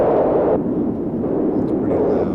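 Noise source on a modular synthesizer producing a random signal: a dense, steady hiss-like roar, loud and continuous, with a slight drop in its bright edge partway through and no voices.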